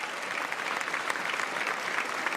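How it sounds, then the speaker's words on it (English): A crowd at a Philadelphia mayoral inauguration applauds for Congressman Dwight Evans, producing dense, steady clapping that holds at an even level throughout the short stretch. "Give him a huge round of applause."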